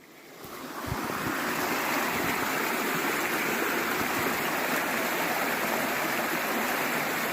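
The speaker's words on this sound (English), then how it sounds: "This is that little river that was flowing underneath the trail over to the graveyard." A small river rushes steadily beneath a trail leading to a graveyard, giving a broad, continuous, close-up wash of water with no voices.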